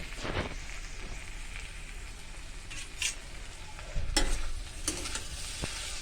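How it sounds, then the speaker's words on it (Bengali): Steady broadband sizzle of potatoes frying in a pan, with a few sharp clinks and scrapes of stirring cutting in near the end. "আর এই তো এখানে হচ্ছে আলু ভাজা বসিয়েছি।"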